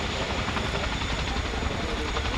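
An RAF Chinook twin-rotor helicopter at the RIAT 2022 air display produces a steady, loud, broadband rotor and engine roar that holds an even level throughout, with no audible talk.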